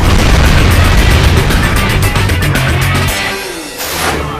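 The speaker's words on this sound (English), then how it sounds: "At the top, use the cannon to destroy the railgun." Cannon fire in a video game blasting a railgun, a series of loud, booming explosive bursts rolling over one another, then dropping off into a quieter tail.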